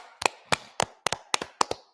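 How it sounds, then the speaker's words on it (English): Hands clapping at a scripture breakdown class in Charlotte, North Carolina: about seven sharp, close double claps in a steady, even rhythm, with no talking. "clap it up one more time"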